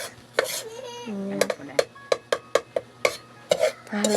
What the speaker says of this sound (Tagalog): Haluin pa natin siya